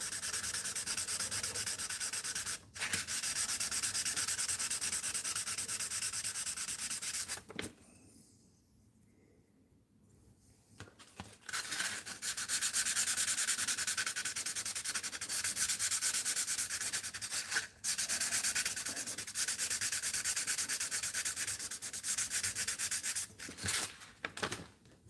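A custom metal lockpick is rubbed on sandpaper in a continuous, close, gritty scrape with one brief pause partway through before the sanding resumes.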